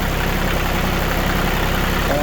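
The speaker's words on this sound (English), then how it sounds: "I revved it up to 1500 for a while and let it back down to idle." Steady, loud mechanical drone of a New Holland tractor engine idling after a water pump install, an even unbroken running sound filling the whole span with broadband noise.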